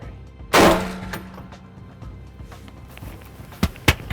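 A single sharp, loud rifle shot rings out on a deer hunt as a doe is dropped, followed by a brief rumbling echo, then quiet rustling and a couple of faint thumps.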